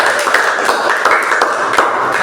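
Classroom applause from students, a steady, dense patter of many hands clapping together close by for a couple of seconds without a break.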